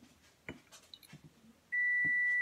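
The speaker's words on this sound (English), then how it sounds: "The stove is beeping." A kitchen stove sounds a loud, steady electronic beep that starts suddenly and holds to the end, following a few scattered clatters and soft household noises.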